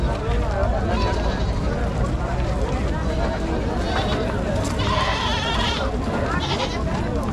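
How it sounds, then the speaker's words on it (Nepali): Male goats bleat repeatedly outdoors in rural Nepal during the Dashain season, their calls rising over nearby chatter and background noise. "सब बोकै बोका जन्तुहरू"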